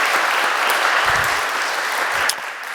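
A church congregation claps together in steady, dense applause that fills the room, then tapers slightly near the end.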